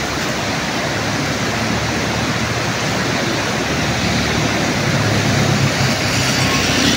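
A riverside current pours on steadily, a dense continuous rush of flowing water, loud and close, unchanging throughout with no voices.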